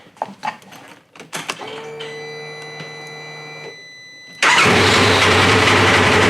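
A machine being rewired, with a winch, whirs and hums on its starting circuit for a couple of seconds. Its engine then catches and settles into a loud, steady rumble, preceded by clicks and handling noises.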